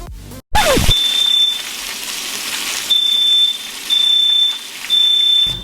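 An apartment complex fire alarm sounds in a kitchen, loud shrill beeps repeating in long bursts with gaps, after a brief clatter near the stove.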